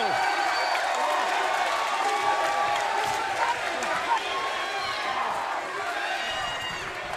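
Wrestling arena crowd at a Turning Point event roars and cheers steadily throughout, a dense sustained wash of voices with scattered whistles, heard fairly loud without pause.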